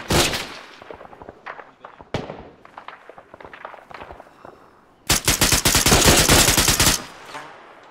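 Gunfire in the military game Arma 3: scattered single shots and short bursts early on, then a loud, sustained rapid automatic volley for about two seconds before it cuts off.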